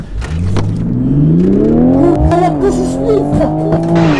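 A Toyota Supra and a Ford Mustang launch in a quarter-mile drag race, loud engines rising steadily in pitch as they accelerate hard and close by, with a brief gear-change dip midway.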